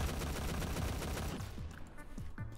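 Rapid video game gunfire shooting through a wall, a dense burst of automatic shots that thins into a few separate, sharp reports near the end.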